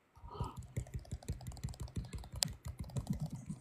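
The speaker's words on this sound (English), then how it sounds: "I'm tapping the screen" Rapid, even clicking from fingers tapping on a touch screen, a quick regular run of close, crisp taps going on without a break.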